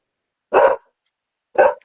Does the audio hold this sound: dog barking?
yes